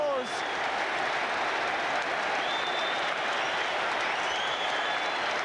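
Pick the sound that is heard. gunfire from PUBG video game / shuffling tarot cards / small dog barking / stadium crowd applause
stadium crowd applause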